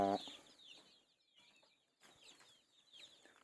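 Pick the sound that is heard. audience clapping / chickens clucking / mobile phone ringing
chickens clucking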